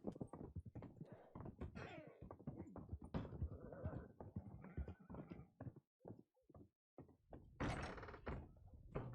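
Door creaking open and thudding in a Wild West roleplay game, a few knocks and clunks scattered through dense layered game noise with hoof-like clopping nearby.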